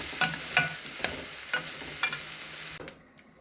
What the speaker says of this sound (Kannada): ಇದನ್ನು ಸ್ವಲ್ಪ ನಾನು ಒಂದು 2 ನಿಮಿಷ ನೀಟಾಗಿ ಫ್ರೈ ಮಾಡ್ಕೊತೀನಿ